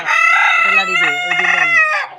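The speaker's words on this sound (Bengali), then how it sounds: "আমাদের খুব সুন্দর মোরগ এখানে আছে দুই জোড়া" A Silkie rooster crows loudly and close in one long, drawn-out call, with clucking from the Silkie flock kept alongside it.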